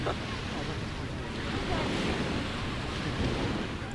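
Sea waves wash onto the shore on an evening seaside outing at sunset, a steady broadband surf rush with wind buffeting the microphone, continuous and fairly loud throughout.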